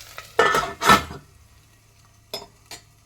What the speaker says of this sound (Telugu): ఒక 2 రెబ్బల కరివేపాకు వేసి వేపుకుందాము.